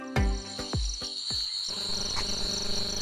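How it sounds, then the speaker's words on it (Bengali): Crickets chirping at dusk around a forest resort in Kakrajhore near Ghatshila, a loud, continuous high-pitched trill close by, joined by a few low thumping knocks early on. "নিস্তব্ধতা ভেদ করছে চতুর্দিকের ঝিঁঝি পোকার ডাক"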